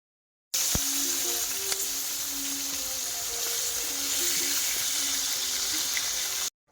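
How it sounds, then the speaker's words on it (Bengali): Fish frying in oil on a clay stove fired with leaves gives a steady, even sizzling hiss that holds for about six seconds with faint crackles, then cuts off. "এদিকে মাছ ভাজছে এখন"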